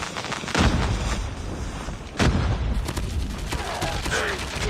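An HG40 submachine gun fires in COD Mobile, loud, close bursts of rapid shots with a few heavier cracks standing out, continuing throughout.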